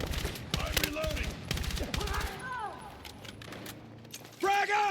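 Rapid gunfire bursts in a Battlefield 6 battle give way to mechanical clicks and clacks of a weapon being reloaded, with shouted voices and a sharp burst returning at the end.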